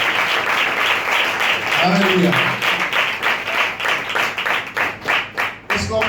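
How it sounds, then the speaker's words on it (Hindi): Congregation at a Wednesday healing church service applauds loudly for several seconds, dense clapping with a voice calling out over it before the applause thins toward the end. "अपने लिए जोरदार तालियां बजाइए"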